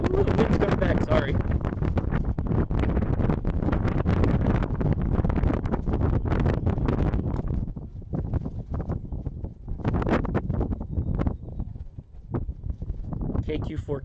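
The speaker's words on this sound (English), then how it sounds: "Ooh, the wind's coming back." Gusty wind buffets the microphone outdoors at a remote portable ham radio operating site, a loud continuous rumbling roar for most of the clip that eases slightly and then surges again near the end.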